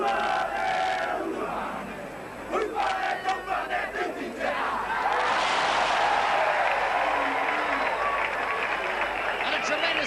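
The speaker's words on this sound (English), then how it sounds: "Ovation from a very appreciative crowd who have seen entertaining football 2 weeks in a row" Crowd at a Carlaw Park rugby league match bursts into a sustained roar of applause and cheering, swelling loud after some shouting and commentary.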